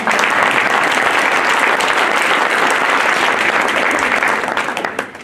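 Audience at a 2025 New Year's greetings ceremony in Isola applauding Jean-Paul, president of the AFA, steady dense clapping from a crowd that holds evenly and fades out at the end.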